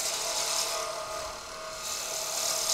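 A wood gouge shaving a spinning Celtic knot pen blank on a lathe gives a steady, close, hissing rasp with a faint tonal hum, rising and dipping slightly as the cut continues, without talk.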